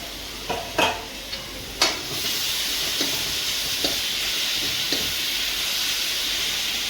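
Chopped tomatoes tipped into frying onions for a raw banana curry, a steady loud sizzle and hiss with a few scraping stirs and clinks of a spoon against the pan near the start.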